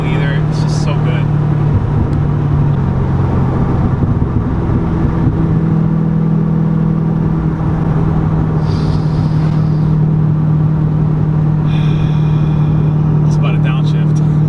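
A Corvette C6 Z06 with upgraded heads and cam rumbles close and loud from inside the car, its engine note swelling briefly in a downshift rev before settling into a steady low drone.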